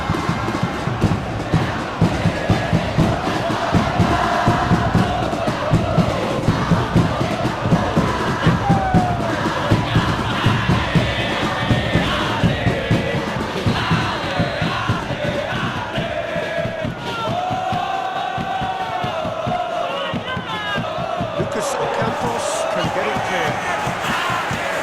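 A stadium crowd in the PES 2025 football video game roars and cheers continuously, loud and dense throughout, with a commentator speaking over it.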